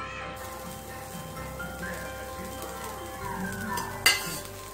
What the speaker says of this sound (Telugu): దాని మీద ఉల్లిపాయ ముక్కలు, కొత్తిమీర, కరివేపాకు వేసుకొని ఆయిల్ వేసి వేయించాలి.